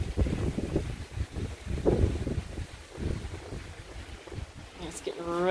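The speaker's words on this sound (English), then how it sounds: "It's getting really windy out here right now." Strong wind buffets an outdoor summer table setting, roaring and gusting steadily against the microphone and swelling louder toward the end, with no talk.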